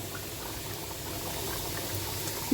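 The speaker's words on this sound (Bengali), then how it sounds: "আর এখানে ঝোলটা ফুটে গেছে" Thick curry gravy with fried eggs boiling in a pan at a steady simmer, a constant bubbling hiss with no talking.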